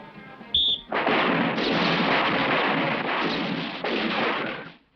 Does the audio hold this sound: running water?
no